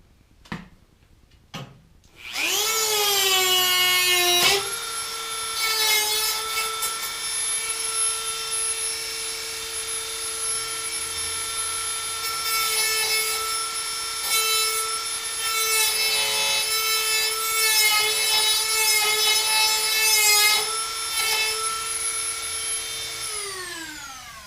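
A grinder spins up and grinds away at old wheel well trim on a 1966 Dodge Charger, a loud sustained whine that wavers in pitch as it bites, after a few sharp knocks at the start.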